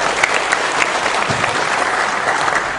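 An audience at an anti-corruption music event applauds on request, producing a loud, dense, steady burst of clapping with no voices over it.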